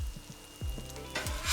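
Bacon sizzles on a Pit Boss five-burner flat-top griddle, a steady close crackle with a few scraping thumps of a spatula cutting through it.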